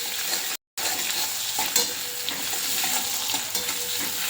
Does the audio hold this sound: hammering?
no